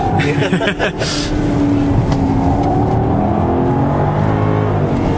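A Jaguar sports car runs on the Oulton Park race circuit, its engine droning steadily from inside the cabin with smooth pitch shifts as it accelerates and eases off, with someone talking over it.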